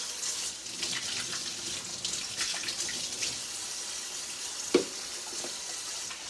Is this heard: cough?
no